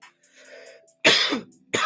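A person coughs harshly in two close bursts after smoking, loud and near, following a quieter stretch of muffled voices or throat sounds.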